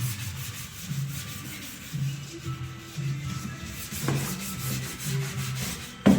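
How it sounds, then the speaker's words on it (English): An orbital sander lightly scuffs the paint on a 1991 Buick, making a soft, rhythmic rubbing with repeated strokes about once per second. The sound is faint and close. "Just grazed a few spots with the orbital sander"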